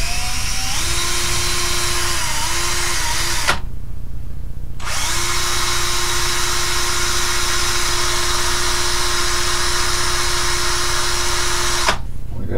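A power drill fitted with a small bit whines loudly and steadily for several seconds, stops briefly, then runs again at a constant high pitch before cutting off, during work on a Honda lawn mower axle.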